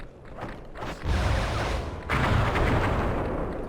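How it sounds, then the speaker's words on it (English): Fireworks going off in the PS5 game Sly 3: Honor Among Thieves, heard as a fast burst of crackling pops followed by two heavier blasts with a whooshing rush, loud and dense with no talk over them. "whatever fireworks you had loaded in your back, they automatically go off."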